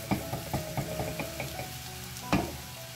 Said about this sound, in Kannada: ಮತ್ತೆ ಅರಿಶಿನ ಹಾಕಿದ ನಂತರನು 1 ನಿಮಿಷ ನಾವು ಇದನ್ನ ಚೆನ್ನಾಗಿ ಹುರ್ಕೋಬೇಕು